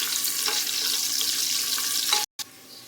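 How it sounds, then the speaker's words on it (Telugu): Chopped onions frying in a pan for Karnataka-style bisi bele bath, a steady close hiss of sizzling oil that runs unbroken, then cuts out briefly and returns quieter. "ఈ ఉల్లిపాయలు కాస్త మెత్తగా అయ్యేంత వరకు ఫ్రై చేసుకోవాలి"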